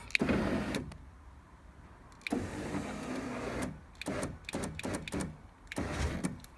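The electric window of a Volkswagen Corrado, freshly fitted with a new regulator, whirs in close motor bursts. Its pitch shifts as the glass travels and stops, with brief pauses between runs.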